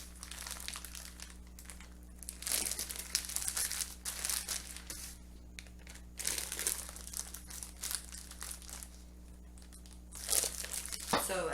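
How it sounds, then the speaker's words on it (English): Zip-lock gallon freezer bag holding chicken being pressed and sealed: intermittent crinkling and crackling of plastic in quiet bursts, a low steady hum underneath, with a few soft rustles. "Zip-locking it, trying to get as much of the air as possible."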